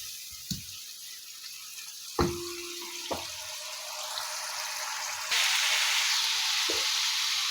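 Meat fries in masala with a continuous sizzle that grows louder partway through, broken by a few sharp utensil knocks and clinks nearby.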